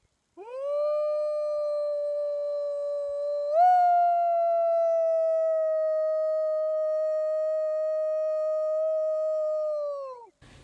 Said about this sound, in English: this next video is wolves actually howling back at us, because they thought we were wolves